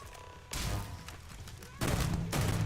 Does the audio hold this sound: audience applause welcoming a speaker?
no